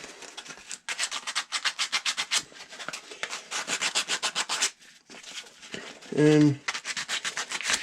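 Sandpaper rubbing the rounded edges of a wooden ball starter in quick rhythmic back-and-forth strokes, close and crisp, pausing briefly between runs, with a short spoken word near the end.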